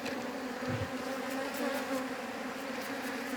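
Bees buzz around a honeycomb at Paşa yaylası, a close, continuous droning hum with small wavering shifts and faint overlapping wingbeats, with no one speaking.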